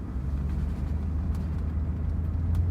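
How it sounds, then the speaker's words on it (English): A 1979 Rolls-Royce Silver Shadow II with a carbureted 6.75-litre V8 idles quietly, producing only a faint, steady low hum with no other sound over it. "We'll listen to the silence of this motor car."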